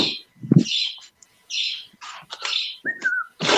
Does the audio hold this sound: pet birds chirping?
yes